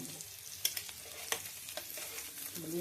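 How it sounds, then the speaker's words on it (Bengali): Young jackfruit frying in a pan makes a low, steady sizzle broken by a few sharp clicks of stirring, fairly quiet and without speech. "এঁচোড়টাকে তোমার ভাজা, বন্ধুরা আমার এটা ভাজা হয়ে গেছে"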